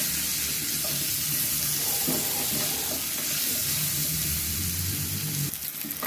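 Raw green banana pieces seasoned with salt and turmeric fry in oil in a kadai, a steady close sizzle that stays loud and continuous, with faint clinks of stirring.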